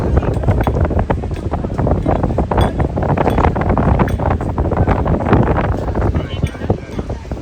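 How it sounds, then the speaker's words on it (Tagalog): Strong wind buffets the microphone in gusty, roaring bursts at Marina Grande in Sorrento, with water and waves faintly audible beneath. "Lakas pa ng hangin."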